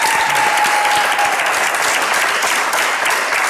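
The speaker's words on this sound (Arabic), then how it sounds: "تصفيقة كبيرة على إيمان الشريف" A studio audience gives Iman Al-Sharif a big round of loud, dense, sustained clapping that fills the room for several seconds.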